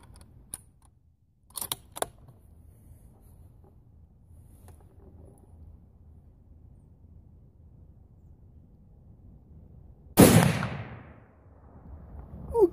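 After a few faint clicks and a long quiet stretch, a .308 Winchester rifle fires one loud, close shot of a 170 grain cast Lee round flat nose bullet, followed by a brief rumbling decay outdoors.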